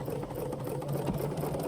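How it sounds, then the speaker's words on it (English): A Bernina jumbo-bobbin sewing machine runs stitch number 5, giving a steady mechanical hum with a fast rhythmic stitching pulse. It is heard close and continuous. "you can go ahead and start sewing"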